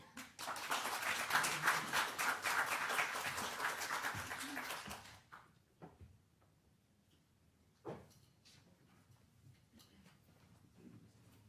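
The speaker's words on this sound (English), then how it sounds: "give a round of applause for Theodora." A burst of clapping from an audience lasts about five seconds, then fades out, leaving a quiet room with a few scattered knocks and shuffles.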